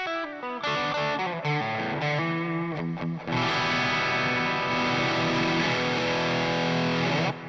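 Electric guitar played through high-gain distortion, rich sustained chords ringing loud and close, shifting from choppier phrases into a dense, saturated wall of tone with no talking.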